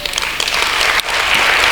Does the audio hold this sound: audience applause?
yes